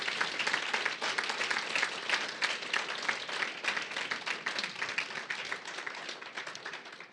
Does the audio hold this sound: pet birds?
no